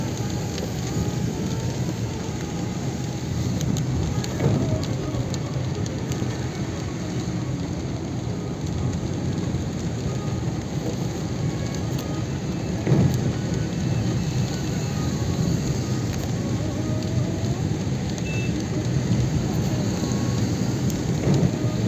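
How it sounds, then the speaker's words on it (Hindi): Heavy rain pours steadily in Delhi on a January day, a dense, continuous hiss with low thunder rolling through it, one deeper rumble standing out midway, and no voices. "बारिश वैसे ज़बरदस्त है"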